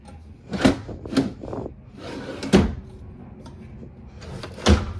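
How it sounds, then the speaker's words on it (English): Full-extension plywood drawers on ball-bearing guides in a 2023 Forest River Arctic Wolf 3810 RV slide open and shut several times, giving soft rolling rumbles that end in wooden knocks. "you're gonna have three full extension plywood box, ball bearing drawer guided drawers"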